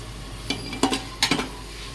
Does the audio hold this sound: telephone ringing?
no